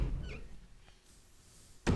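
A door in the Resident Evil HD video game opens with a muffled thunk at the start, a quiet pause, then a sharp closing knock at the end.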